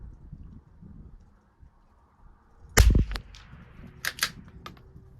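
A single sharp rifle report from a Tikka T1X or Savage MKII rimfire fired at a 100-yard target cracks out loud and close, followed by a few fainter clicks and clacks of the rifle's action.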